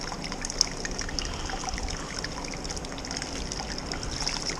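Sparge water trickles steadily onto a grain bed during a smoked rauch-style beer brew, a soft continuous splashing with a faint hiss, fairly close and low in level.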